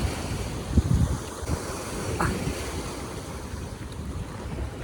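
Waves of the sea at Dhanushkodi rush and break near the shore in a continuous roar, with gusty wind rumbling against the microphone and a brief splash early on.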